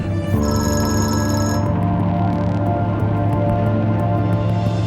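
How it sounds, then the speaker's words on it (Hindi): A telephone rings steadily, its bright electronic tone steady throughout, with a busy background hum and a few faint clicks. "जरा देखो उमर मुझे फोन कर रहा है।"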